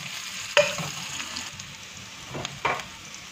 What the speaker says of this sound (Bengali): তারপরে রসুন কুচিটা দিয়ে দিল। এটাকে জাস্ট একটু লালচে করে ভাজতে হবে।